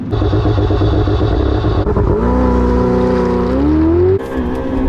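A Vauxhall Corsa car engine drones loudly as it accelerates around a corner, pitch dipping then climbing steadily under load before easing off at the end.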